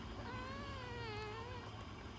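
A pet cat gives one drawn-out, wavering meow, close and fairly loud, lasting about two seconds over a background hiss.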